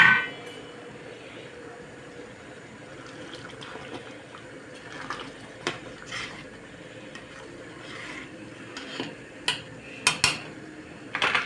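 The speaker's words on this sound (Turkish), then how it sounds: "Şöyle bir karıştıralım." Lentil stew being stirred in a cooking pot, soft scraping and clinks of a utensil against the pot, quiet, with sharper knocks near the end.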